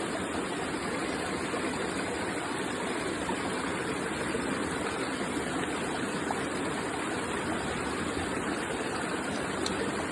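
Water flows steadily through sediment in a gold pan during outdoor panning in Normandy, a constant broadband rushing wash that runs unbroken and fairly close throughout, with no voices.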